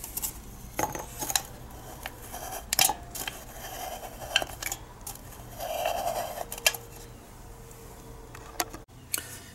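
Scissors snip through the thin bottom of an aluminum Coke can, giving a series of sharp metallic clicks and crinkles with faint rustling between cuts, close and fairly loud, no talking.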